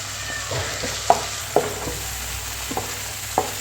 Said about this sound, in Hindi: मीडियम टू लो फ्लेम पर हल्की हल्की भुनाई करूँगी, ताकि ये जो प्याज मैंने अभी इसमें डाले ये अच्छे से इसमें भून जाए